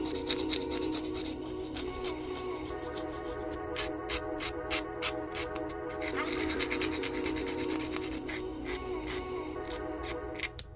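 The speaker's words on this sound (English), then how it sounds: "I'll go in with my hand file. This is 80 by 80 grit, and I'll file the sides of course," An 80 grit hand file shapes a polygel nail, making a continuous close scratchy rasp of quick back-and-forth strokes at steady low volume.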